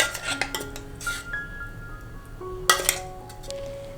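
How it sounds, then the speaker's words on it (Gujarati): A spoon clinks repeatedly against a bowl while curd, salt and a thick coconut paste are mixed into chutney, giving sharp metallic ticks with ringing tones and a louder cluster of clinks near the end. "અને બધું સરસ રીતે મિક્સ કરી દઈશું"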